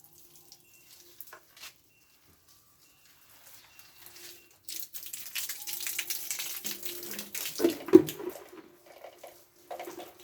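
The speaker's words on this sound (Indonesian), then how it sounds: "jadi seluruh tanaman ya ini saya siram semua dari akar, daun, dan batangnya." Water sprays and splashes in uneven bursts over vanda orchids, building to a louder patch midway, with quieter moments and a few clanks around it.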